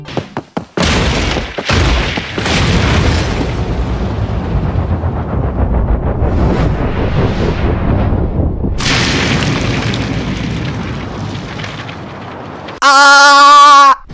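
A Bob-omb blows up in the Paper Mario: The Origami King video game: a heavy boom opens a long, rumbling burst of blast noise, and a short bright tonal game sound follows at the end.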